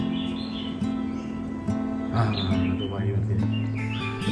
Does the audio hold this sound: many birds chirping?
yes